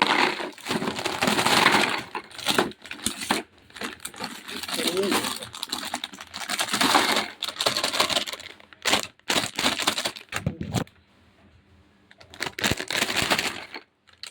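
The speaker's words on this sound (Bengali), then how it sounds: "এই যে বিস্কুট নিয়ে নিচ্ছি, বিস্কুটটা কৌটোতে ঢেলে রাখি" Biscuits poured into a tin container make repeated dry rattling and crunchy clatter in bursts across the clip, with brief pauses between pours.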